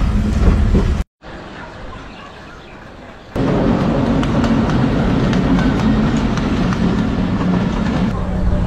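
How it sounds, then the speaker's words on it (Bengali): The Rupsha Express arrives on a Bangladeshi rail line with a loud, sustained rumble and faint clickety-clack, broken by a brief dropout before the roar grows heavier and steadier. "চলে আসলো বাংলাদেশের অত্যন্ত জনপ্রিয় একটি ট্রেন, সেটা হচ্ছে রূপসা এক্সপ্রেস।"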